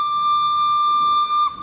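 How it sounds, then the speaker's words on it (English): A steam engine's whistle blows loudly and steadily, a strong sustained tone with a few harmonics that holds for over a second before cutting off, with no other sounds around it. "He whistled loudly."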